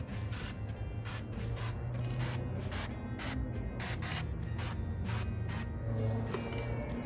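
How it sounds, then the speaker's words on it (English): A trigger sprayer squirts tire cleaner onto a car wheel in quick, regular bursts, about a dozen short hissing sprays over a low rumbling background. "spray some juice in there"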